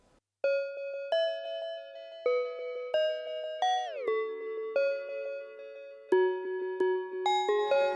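A bell-like melodic instrument plays a clear sequence of sustained tonal notes in a music beat, each note struck with a bright attack and ringing decay, stepping through pitches steadily for several seconds without any voices.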